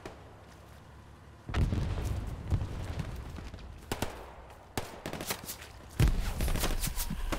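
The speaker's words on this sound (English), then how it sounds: "That's grenades." Grenades explode in the World War II shooter Hell Let Loose amid heavy battlefield gunfire, with sharp loud blasts near 1.5, 4.8 and 6 seconds standing out over steady distant shooting.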